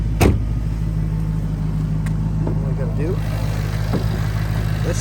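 Idling supercharged 5.0-litre V8 of a 2011 Jaguar XKR after a cold start, a steady low rumble heard up close with the hood open, with a brief louder knock near the start and someone talking over it.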